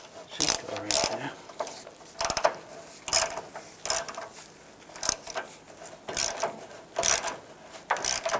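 Bolts being started by hand on the rear bumper of a Chevrolet Silverado 2500 HD, heard as a series of short, close metallic ratcheting clicks in bursts roughly once a second.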